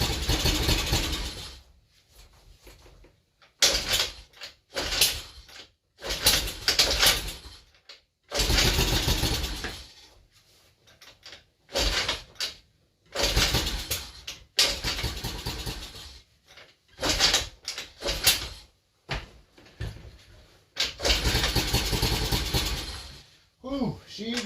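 A revived 50cc scooter with a dirty carburetor and an oil-filled exhaust starts up. Its small engine then runs in loud, close bursts of revving, with short silent gaps between them.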